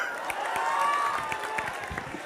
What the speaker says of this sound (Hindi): दोबारा ताली बजाओ।